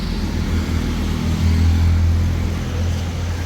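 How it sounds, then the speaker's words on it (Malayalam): Vehicles speed past on a road with a loud, steady roar of engines and tyres that swells slightly midway, close and continuous, with no voices. "വണ്ടികൾ പോകുന്നുണ്ടോ ചീറിപ്പാഞ്ഞ് ചീറിപ്പാഞ്ഞ്"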